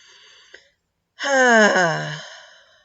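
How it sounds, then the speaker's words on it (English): Someone takes a deep breath during a guided session: a quiet intake is followed by a pause, then a long, loud exhale that carries a voiced, sighing tone and slowly fades. "So let's just take a breath here."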